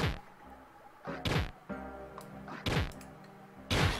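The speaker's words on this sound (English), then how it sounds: "Okay, that was dropping a bomb." A bomb dropping in the Trove video game, a series of four deep, punchy thunks spaced roughly a second apart over a low steady game hum, close and loud.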